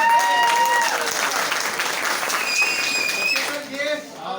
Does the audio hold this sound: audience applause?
yes